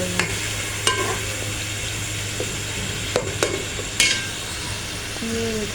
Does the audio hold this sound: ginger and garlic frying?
yes